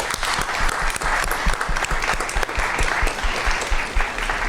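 A school board meeting audience applauds an honored educator, Mrs. Castellanos, with loud, close, continuous clapping made of many distinct hand claps, steady throughout.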